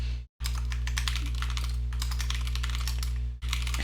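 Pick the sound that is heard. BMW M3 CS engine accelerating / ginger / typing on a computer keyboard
typing on a computer keyboard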